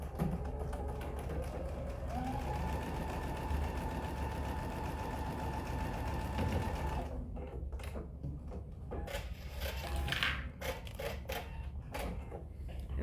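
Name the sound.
sewing machine stitching a quarter inch seam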